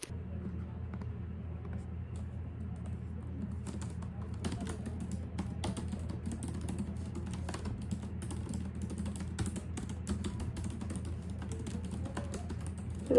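Steady typing on a computer keyboard in a shared office, with continuous key clicks over a low background hum and bursts of quicker strokes in the second half.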